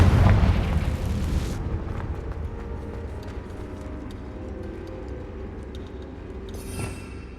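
A fiery blast spell in a Hogwarts Legacy cave fight bursts with a loud boom up front, then rumbles away into a low decaying roar with faint scattered ticks and a brief late crackle.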